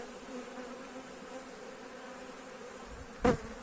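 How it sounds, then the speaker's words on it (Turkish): A steady drone honeybee buzz hums throughout beside a hive, with a brief louder burst near the end, like a bee flying close past. "İşte erkek arımız burada."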